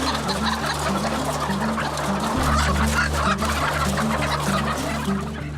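Dense, continuous clucking from a large flock of hens packed into a poultry shed of about 30,000 birds, a steady loud chorus over a low mechanical hum with no speech.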